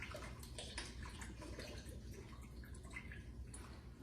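Worcestershire sauce poured slowly into a bowl during a family barbecue cooking contest, a faint continuous trickling and splashing of liquid lasting several seconds, quiet and alone.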